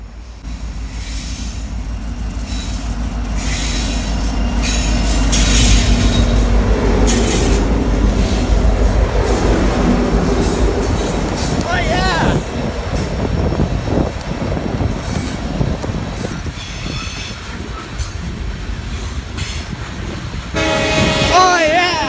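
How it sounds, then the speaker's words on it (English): A freight train on the MSE 66 rebuild run rolls loudly down a hill close by, with a continuous heavy rumble, wheel squeal, clattering cars and horn blasts near the end. "Here we have a nice shot of the train coming down the hill"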